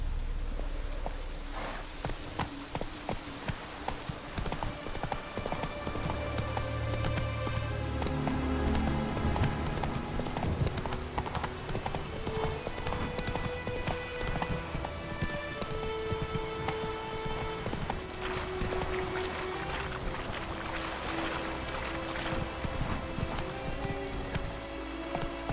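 Rapid hoofbeats of Roach, a horse in The Witcher 3: Wild Hunt, galloping steadily over layered game music and ambience, with a brief whinny mixed in and no talk.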